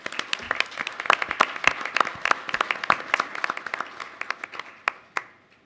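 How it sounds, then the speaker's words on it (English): A round of applause at a trustee candidate forum, many hands clapping in a dense, lively burst that thins out toward the end, with no voices. "So let's go ahead and give them a round of applause."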